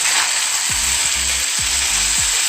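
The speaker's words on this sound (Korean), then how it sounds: "그리고 지글링 지글링" Korean sundae blood sausage sizzles steadily as it is stir-fried in a hot pan, a loud, constant hiss with a few soft scraping strokes of the utensil underneath.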